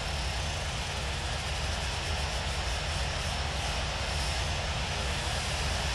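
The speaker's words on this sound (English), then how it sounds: "Swiss 65 Heavy, taxiing to runway 25 right" An airliner taxis toward the runway at Los Angeles International Airport in the Infinite Flight game, heard as a loud, constant jet engine roar that holds steady throughout with no talk.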